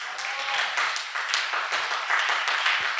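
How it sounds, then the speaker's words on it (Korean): A church congregation at a Sunday worship service claps together in a dense, lively patter of many hands, steady and fairly close throughout. "박수 쳐주세요"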